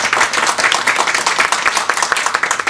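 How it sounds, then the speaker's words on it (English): A crowd at a first-night networking event applauds steadily, dense clapping filling the room at close range for the whole stretch, with no talk over it. "Everyone give yourself a round of applause."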